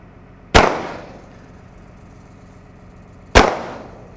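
Two sharp gunshots crack outdoors about three seconds apart, each a loud, close burst with a short fading tail and near-quiet in between.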